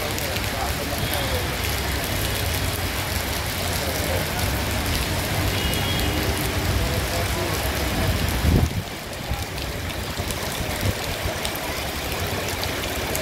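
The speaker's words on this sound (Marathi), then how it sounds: "भिवंडी ग्रामीण व शहरात पावसाची दमदार बॅटिंग." Heavy rain falls steadily across Bhiwandi town and its rural outskirts, a dense, even hiss of downpour running throughout, with a brief thud partway through and no talk over it.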